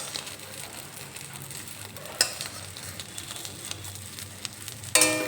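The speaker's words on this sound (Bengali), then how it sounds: "এখন এই অমলেটের 5টা পিস আমি একটু নেড়ে চেড়ে ভালোভাবে ভেজে নেব" Five omelette pieces frying in oil in a pan, a steady close sizzle broken by a couple of sharp spatula clinks as the pieces are stirred and turned over.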